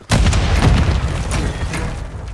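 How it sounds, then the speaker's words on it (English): A grenade detonates in the Call of Duty video game as a loud, close boom with a heavy low rumble that rolls on and fades slowly over a couple of seconds. "Grenade!"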